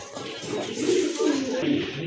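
Domestic Bengali gola pigeons coo in low, throaty, rolling phrases at close range, a steady murmur of several overlapping calls filling the short stretch.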